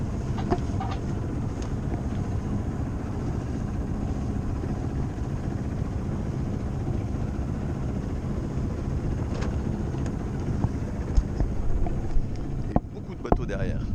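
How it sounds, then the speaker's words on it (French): Sailboats gather on the water minutes before the start of the Tour de Ré 2019 sailing race, heard as steady wind and water rush against the microphone with a few faint knocks near the end. "avec quelques bateaux sur l'eau."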